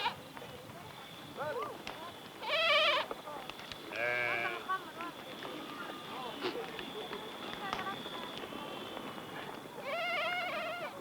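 Goats in the sandy Niger countryside bleating in several wavering calls spread across the stretch, a couple of them louder and nearer, over a steady outdoor background, with a person speaking in between.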